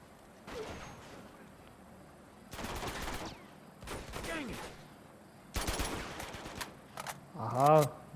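Gunfire in the video game Uncharted 2 comes in several loud rapid bursts separated by short pauses, with a player talking excitedly over and between the shots.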